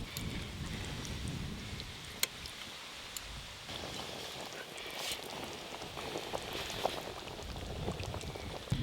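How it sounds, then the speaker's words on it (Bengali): Rohu fish curry with cauliflower bubbling in a pan, a faint steady simmer with soft popping and occasional small crackles, no voices over it. "মাছ দিয়ে খানিকক্ষণ ঝোলটা ফুটিয়ে নিয়েছি"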